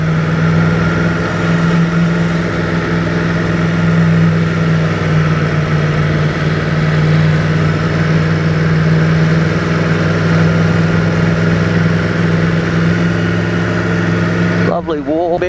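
A Yamaha MT-10 motorcycle ridden along the coast at Caloundra near Shelley Beach gives a steady, droning engine note mixed with wind rush, holding an even loudness throughout before a brief disturbance at the very end.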